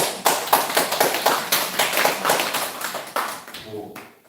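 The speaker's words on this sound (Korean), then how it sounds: "우리 목사님 박수로 한번" Seated congregation at a Korean church healing class claps for their pastor, a loud, close burst of many hands that tapers off near the end.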